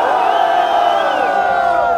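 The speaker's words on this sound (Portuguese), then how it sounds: "Barulho pras rimas do Luquinha" A crowd at a rap battle semifinal roars and shouts in a loud, sustained burst of cheering and whooping, with voices overlapping throughout.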